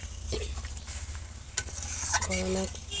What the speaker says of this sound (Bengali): টকে ফোড়ন দেবো তাই ফোড়ন দিয়ে দিয়েছি সরষে লঙ্কা ফোড়ন